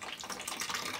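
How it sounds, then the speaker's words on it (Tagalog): Tap water runs in a steady broadband rush in a home kitchen, even and continuous with no talk over it. "Ayan ang tubig namin."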